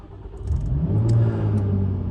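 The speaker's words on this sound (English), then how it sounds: "The engine starts and goes to its high rev startup mode to protect the catalytic converter for a few seconds." A Jaguar F-Type with a supercharged V6 fires up and settles into a raised high-rev idle, the engine catching and then holding a loud, steady mid-pitched hum up close, with no voices over it.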